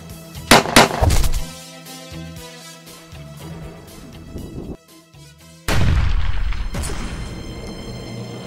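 A rocket launcher fires at a tripod as a dramatic sound effect: sharp loud blasts early on, a tense low rumble, then a heavy booming impact that sustains to the end.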